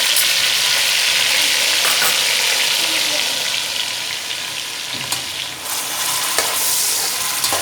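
Chopped onion frying in oil in a pan, a loud, bright, continuous sizzle close up with occasional scraping stirs and clicks, no voices.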